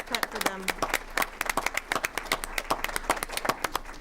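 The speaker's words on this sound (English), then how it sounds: "yes, let's clap for them." Clapping rings out at a school board meeting, crisp distinct hand claps from a modest crowd in a hall, steady and fairly close. A voice speaks briefly at the start.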